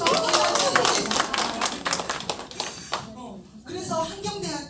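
An audience claps a few times at a talk, brief uneven clapping in the first seconds mixed with voices and chatter, then fading under speech.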